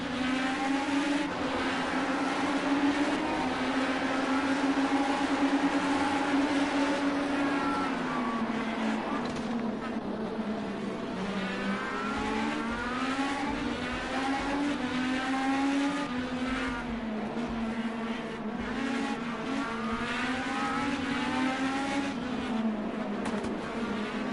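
Several IndyCar race cars in Project Cars 2 scream along in a close four-way battle, engines whining continuously with rising and falling pitch as they jostle for position, loud and sustained throughout.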